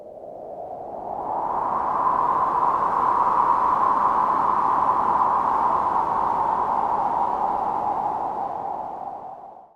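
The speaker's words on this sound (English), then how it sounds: "and some long noise swell" A long filtered noise swell from a Nord Drum 3P rises over about two seconds into a steady breathy hiss, sustains, then fades slowly at the end, alone.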